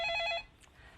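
A telephone rings with an incoming call on a Korean stock-investment call-in broadcast, giving a short burst of rapid bell-like trilling that stops abruptly and leaves quiet room tone.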